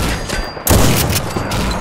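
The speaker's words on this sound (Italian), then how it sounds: "Senti che casino, questi sono tutti spari." Gunfire in the video game Fallout 4 bursts in as a sudden dense volley of shots, loud and chaotic, sustaining through the brief moment.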